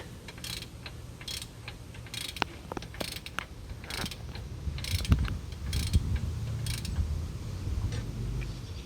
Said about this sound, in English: I also have a ratchet, half-inch ratchet, so it gets to hand tight